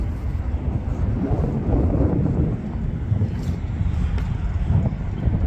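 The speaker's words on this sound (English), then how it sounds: "Something's just touched. Oh, Jet 2." Jet2 airliner touching down at Manchester Airport, a steady broadband roar with strong low rumble and wind buffeting, loud and continuous throughout.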